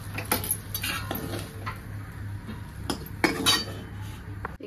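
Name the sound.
fried eggs being taken out onto a plate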